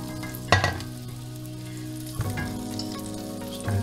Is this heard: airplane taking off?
no